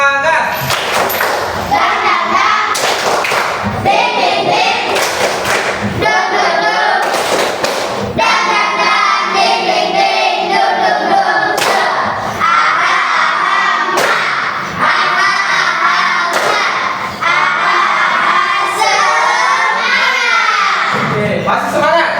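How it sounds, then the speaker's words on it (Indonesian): A classroom of students does a rhythmic spirit clap, loud patterned clapping in bursts mixed with children's chanting voices that continues for about twenty seconds. "Tepuk semangat."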